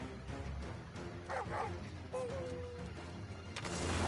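A dog barks in the Final Fantasy XVI video game, a few yips and woofs at moderate level against game music and effects, with brief speech nearby.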